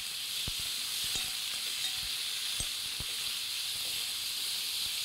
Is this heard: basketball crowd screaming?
no